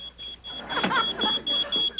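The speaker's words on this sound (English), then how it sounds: "That sounds like the smoke alarm." A high, steady electronic beep repeats in short pulses while people talk over it at moderate volume.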